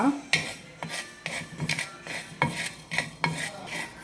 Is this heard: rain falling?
no